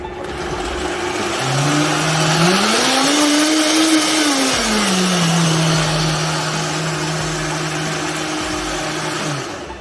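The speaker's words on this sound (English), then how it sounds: "Let's blend so your mama can see." A kitchen blender whirs steadily for about ten seconds while blending stuffed tomato filling, its motor pitch rising and then dropping back, loud and close with no talk over it.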